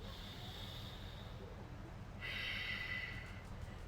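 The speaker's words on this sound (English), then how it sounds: "One more breath." A slow, airy breath during a full-body yoga strength workout, faint and close, with a soft hiss that swells near the end and no talking.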